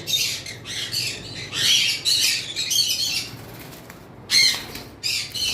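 Red-eye albino cockatiels squawk in loud, harsh bursts that come repeatedly with short gaps between them. The calls are close and carry no talk over them.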